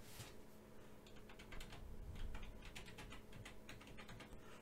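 Quick, faint keystrokes on a computer keyboard as a worker name is typed in during a Verge (XVG) mining setup, with irregular clicks over a steady background hiss and no speech.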